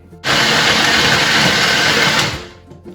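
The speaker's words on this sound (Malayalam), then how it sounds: "ഇനി ഇതിനെ ബ്ലെൻഡ് ചെയ്തെടുക്കാം" A kitchen blender whirs loudly as it purees two avocados. It starts abruptly, holds a steady roar for about two seconds, then cuts off, with no talking.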